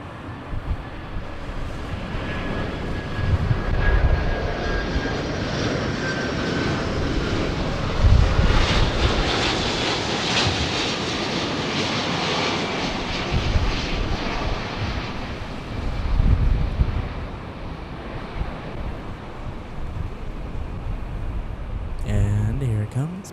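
A Delta Air Lines Boeing 737-800 in a special charity livery lands at Los Angeles International Airport, its engine roar building steadily and staying loud throughout. Wind buffets the microphone, and a person speaks over it.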